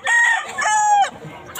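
A rooster of the Golden Boy breed crows loudly and close by at a pet market, a long harmonic call lasting about a second, with a few softer clucks and noises trailing after it.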